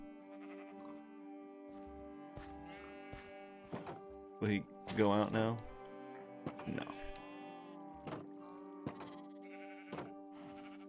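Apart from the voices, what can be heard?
sheep bleating in the video game Minecraft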